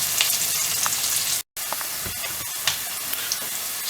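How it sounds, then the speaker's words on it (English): Onions fry in oil in a pan for a homestyle chicken curry, a steady close sizzle and hiss with small pops and a few stirring clicks, briefly cut to silence partway through. "we want to get those onions really nicely browned and caramelised. So we're going to keep cooking this in the oil for a wee bit longer yet."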